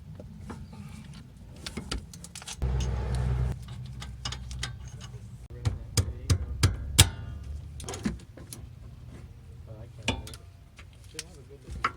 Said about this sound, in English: Now let's remove the 4 bolts that are holding in the bearing and hub assembly.